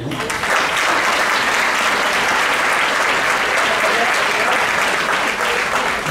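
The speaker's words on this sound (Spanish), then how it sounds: "Yo quiero un fuerte aplauso para ella" Loud, sustained applause from diners at a brotherhood luncheon, dense clapping from a large crowd holding steady throughout without pause.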